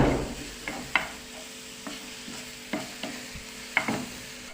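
Onions frying in a pan with salt, black pepper and hot red pepper, a steady sizzle broken by several sharp clacks of a utensil stirring against the pan, close and without talk.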